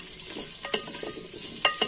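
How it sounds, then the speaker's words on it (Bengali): Potatoes fry in a newly coated clay pot for a duck curry, sizzling steadily at close range with a few sharp stirring scrapes and taps. "কয়টা আলু ভাজা দিয়ে নিতেছি"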